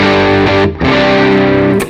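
An electric guitar played through a distortion preset on a Line 6 HX Stomp, loud sustained chords with a brief break and a sharp pick attack near the end.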